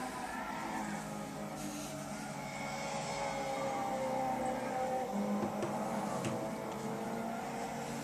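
A little 2-litre Renault Clio races at the Nürburgring in Gran Turismo 6, its engine a steady, continuous drone held at high revs throughout with little change in pitch.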